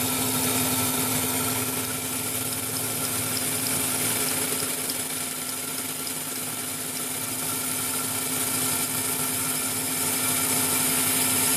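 A milling machine fly cuts metal trigger frames dry, without coolant, giving a steady, loud, continuous whir and hiss with a constant tone that holds evenly throughout.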